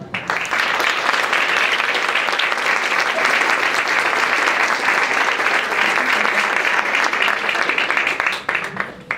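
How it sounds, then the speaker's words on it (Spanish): Strong, even applause from an academic conference audience greeting a speaker, loud and continuous for about nine seconds before tapering off. "Un aplauso"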